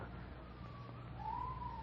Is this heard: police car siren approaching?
yes